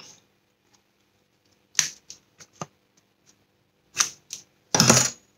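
Blade cutting a bevelled edge on card or board for a shabby-style handmade album binding, heard as a few sharp, close scraping snips and taps spaced through a quiet stretch, ending in a louder, longer rasping cut.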